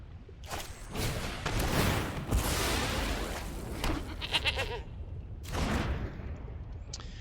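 Goat token bleating in the digital card game Magic: The Gathering Arena, a few game bleats and whooshes mixed with layered effects over several seconds, fairly loud and with no voice over it.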